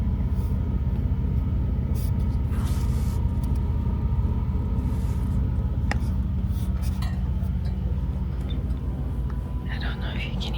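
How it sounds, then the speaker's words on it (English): Heavy trucks pass on a highway at night near an RV parked for the night on a trip through Virginia toward Georgia, heard as a steady low rumbling drone that fills the whole stretch, with faint clinks close by. "I don't know if you can hear the trucks."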